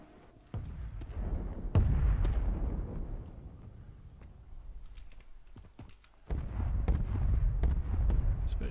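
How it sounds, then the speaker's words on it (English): Mortar strike explosions in the Warzone battle royale game: two heavy, deep booms, each followed by a long rumbling roll with scattered sharp cracks, loud and fairly close. "Mortar strike inbound."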